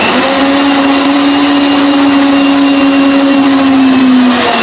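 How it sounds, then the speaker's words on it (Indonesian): A household kitchen blender with slightly dull blades grinds spice paste with a little added water, a loud, steady whirring drone that holds one pitch from start to finish with no talking. "aku pakai aja blender aku yang udah mulai kurang tajam itu"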